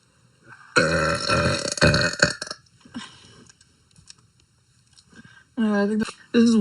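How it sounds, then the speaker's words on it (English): A young woman lets out a long, loud, rumbling burp during a livestream, then talks briefly before a second shorter burp follows close to the mic. "that wasn't the whole burp"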